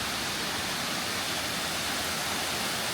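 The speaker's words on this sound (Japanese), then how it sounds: "滝の音はね、すごく静かです" A gentle waterfall at Amagase Onsen, a hot-spring town in Oita, pours steadily, giving a dense, even hiss of falling water with no breaks and no voices.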